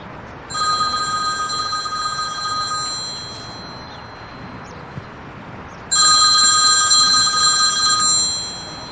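An electronic telephone bell rings in two long bursts separated by a pause, loud and close in an indoor scene, with no talk over it.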